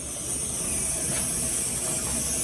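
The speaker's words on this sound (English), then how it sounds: "you do have hot steam coming out of here" A pressure canner of beans in homemade broth vents hot steam in a loud, steady, close hiss that holds unbroken from start to finish.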